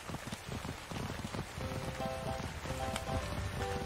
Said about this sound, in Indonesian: Ini hujan lagi.